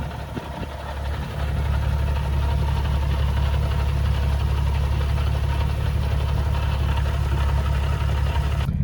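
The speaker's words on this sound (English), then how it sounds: "I guess all these transmissions on all 370Zs make this noise." Nissan 370Z NISMO idling with the clutch released, giving a steady low engine drone with a faint mechanical rattle from the transmission, close and continuous, with no talking.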